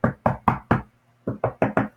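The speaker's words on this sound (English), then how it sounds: "knock, knock, Donna's knocking on the car door with a wooden spoon." A wooden spoon knocks sharply on a car door, four quick, evenly spaced raps, a short pause, then four more, close and clear with no talking.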